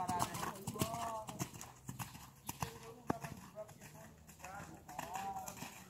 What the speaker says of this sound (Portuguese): Não desista até o cavalo partir ao galope.